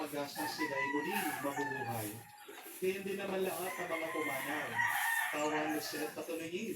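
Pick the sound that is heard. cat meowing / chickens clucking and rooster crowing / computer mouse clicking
chickens clucking and rooster crowing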